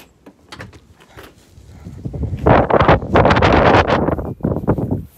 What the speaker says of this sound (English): See what I mean about the wind?